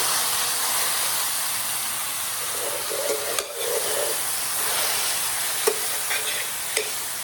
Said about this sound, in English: I'm going to be adding some chopped onion to my ground beef. Give this a little stir.